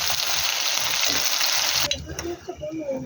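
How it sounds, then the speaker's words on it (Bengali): Fish pieces sizzle steadily in hot oil in a pan, a loud continuous frying hiss that cuts off partway through, leaving quieter clatter and faint kitchen sounds. "আর গাদার পিসগুলো ভাজছি।"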